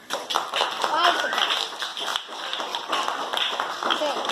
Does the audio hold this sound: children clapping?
yes